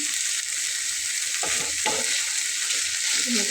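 Radish greens sizzle steadily in a hot pan, close by, with two distinct scraping stirs of a spatula near the middle.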